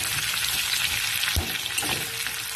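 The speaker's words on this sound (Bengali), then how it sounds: "কুচি রাখা পেঁয়াজটা আমি একটু লাল লাল করে ভেজে নেব" Chopped onions fry in hot oil until reddish-brown, with a steady, bright sizzle, broken by a brief clunk of stirring partway through.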